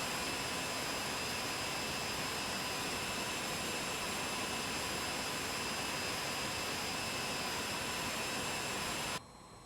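An Aermacchi MB-339 jet taxiing in Microsoft Flight Simulator 2020 gives a loud, steady engine whine and roar that holds constant throughout, then drops abruptly quieter just before the end, with no talk.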